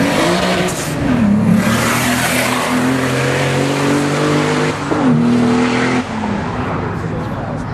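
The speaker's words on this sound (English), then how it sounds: "Going through those gears, 850 to 93 miles per hour." A 1994 Toyota Supra drag racing at full throttle, its loud engine note climbing steadily and dropping at each gear change, with two clear shifts near the end and crowd and track noise underneath.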